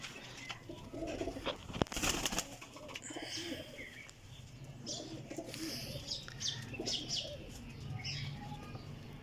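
Kasuri Sialkoti roof pigeons coo in low, throaty bursts close by, with scattered chirps, a sharp flutter of wings and some rustling among the flock.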